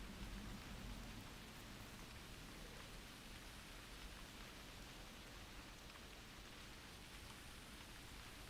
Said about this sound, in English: It's probably just the rain.